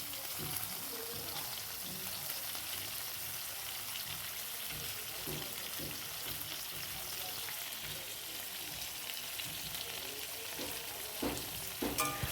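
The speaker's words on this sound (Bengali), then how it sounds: "বাটার দিয়ে আমি একটু পনিরগুলোকে হালকা হালকা করে ফ্রাই করে নিয়েছি" Paneer frying lightly in butter in a pan gives a steady, close-up crackling sizzle for the whole stretch, with a few soft clinks and stirring sounds near the end.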